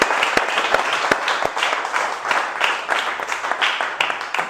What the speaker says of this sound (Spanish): ¿qué les parece si le damos un aplauso, pero fuerte a Dios?